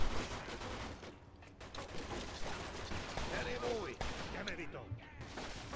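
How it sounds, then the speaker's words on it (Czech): A gunfight in the Mafia 2 video game brings repeated shots and bursts, loud at first and then scattered, mixed with game noise and someone talking over it. "Neznášam tieto prestrelky"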